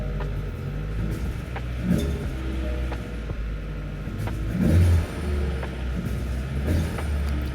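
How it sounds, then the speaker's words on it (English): A 1992 Mazda Miata NA 1.6 fitted with a Flyin' Miata turbo kit, heard near the open hood: a low idle rumble broken by three short, light throttle blips, with no talk. "Do a tiny rev so you guys can hear."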